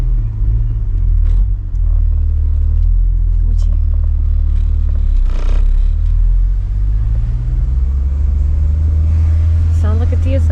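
A Honda TSX engine runs steadily with a deep low rumble inside the car, and people talk over it throughout.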